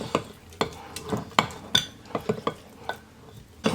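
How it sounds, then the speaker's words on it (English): Sourdough starter is stirred in a jar with a utensil, giving a series of sharp clinks and scrapes against the glass in an uneven rhythm, close and clear with no talking. "And then I just mix this in together"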